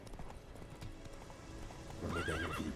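A horse gallops in The Witcher III with rapid rhythmic hoofbeats, and a whinny rises at the end, all moderately quiet and with no speech over it.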